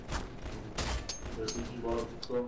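Scattered gunshots pop in a firefight in the video game EYE Divine Cybermancy, a few short bursts at moderate distance with a person talking over them.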